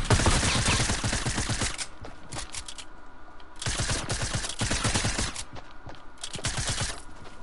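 Rapid automatic gunfire in Fortnite, two long bursts of fast shots at about 0–2 seconds and 3.6–5 seconds, with scattered single shots in between and after.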